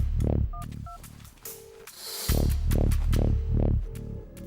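Phone keypad tones in a Tamil-dubbed horror film, a series of short beeping dial tones in an irregular rhythm, loud and close, with a brief static-like break midway and no speech.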